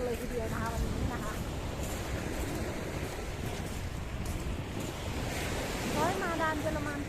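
Steady surf rolls in at a sunny Thai beach, a broad continuous wash of waves with wind buffeting the microphone, while a voice and other voices talk over it throughout.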